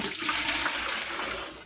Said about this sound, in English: I'm using hot water out of the tap.